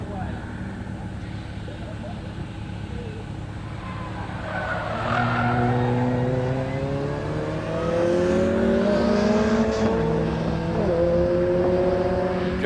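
Race cars, including a Renault Sport Clio 172, run a hillclimb head-to-head shootout, engines rising from a distant drone to loud revving with climbing gear pitches and brief tire squeal as they pass close by.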